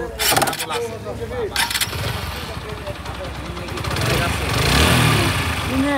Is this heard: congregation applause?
no